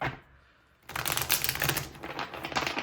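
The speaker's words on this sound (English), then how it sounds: "I'm going to shuffle the deck again to get their energy going through it" A deck of tarot cards is shuffled by hand, a brief quiet pause followed by a dense, rapid riffling flutter that continues steadily for a couple of seconds, close to the microphone.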